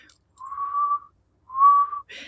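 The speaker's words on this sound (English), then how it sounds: "the plaintive rain frog is a very mournful" Plaintive rain frog from the grasslands of the Durban area, South Africa, calling two drawn-out, mournful whistles, each roughly half a second, separated by a short pause, clear and close in an otherwise quiet setting.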